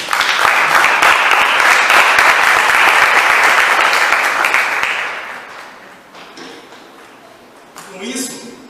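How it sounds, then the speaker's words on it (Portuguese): A church congregation at a Christian community service breaks into sustained, loud applause for about five seconds, then it fades to scattered claps and murmuring, with a brief swell near the end. "Vai dar uma salva de palmas por isso."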